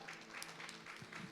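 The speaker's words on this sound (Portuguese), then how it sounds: "Aplauda aí ao Senhor em nome de Jesus." Church congregation applauding during a Sunday worship service, a brief, faint, steady spatter of clapping with scattered sharper claps.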